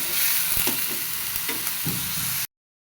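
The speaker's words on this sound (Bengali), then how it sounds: "আদা, জিরে বাটা। এটা একটু ভালো মতো ভেজে নিব।" Ginger and cumin paste frying in a pan, giving a dense, close sizzle with a few soft stirring scrapes, steady throughout before cutting off abruptly near the end.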